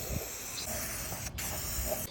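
Graffiti-style spray can with a wide tip laying satin black paint onto a car hood, a steady close hiss that breaks off briefly near the end, with no voices.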